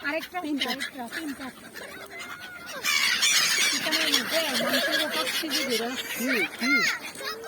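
Geese honk and squeal repeatedly, close and fairly loud, while people talk over the calls, which grow busier and denser in the second half.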